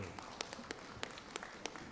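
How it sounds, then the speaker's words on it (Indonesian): Scattered audience claps for two proposers at a parliamentary legislation committee hearing, a sparse handful of distinct hand slaps spread across the moment rather than a full ovation, fairly faint over room noise. "kita tepuk tangan dulu nih untuk dua pengusul"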